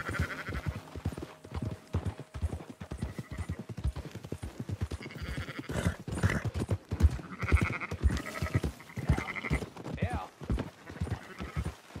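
Sheep bleat and horse hooves clip-clop in the open-world Western video game Red Dead Redemption II, with steady hoofbeats and scattered bleats running through the whole stretch, close and moderately loud.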